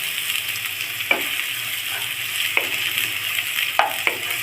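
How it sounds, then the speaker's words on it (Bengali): Chopped onions sizzle and hiss steadily in hot oil with cardamom and cloves, stirred in a pan for an egg and masoor dal dish; a few sharp spoon scrapes and clicks punctuate the close, continuous frying. "পেঁয়াজগুলো কিছু নেড়ে চেড়ে হালকা ভেজে নিব।"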